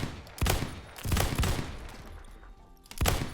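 Three heavy, close shotgun revolver blasts in the video game Phantom Forces, each a sharp boom with a short rumbling tail, spaced about a second apart.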